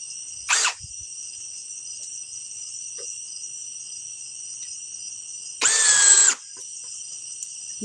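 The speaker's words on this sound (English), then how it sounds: "This is the Ryobi Gen 2 HP hammer drill" A Ryobi Gen 2 HP hammer drill runs in two short bursts, a brief whir and then a longer one, over a constant high steady tone in the background, with no speech.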